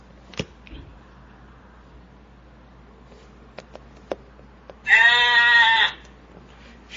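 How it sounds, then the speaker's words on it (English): A single loud, close sheep bleat lasting about a second rings out after scattered faint clicks and quiet ambience. "Sheep and lamb."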